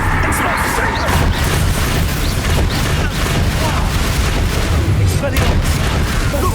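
Blasting spells exploding during a fight in Hogwarts Legacy, a dense run of loud booms and crashes over continuous rumbling action noise, with voices mixed in.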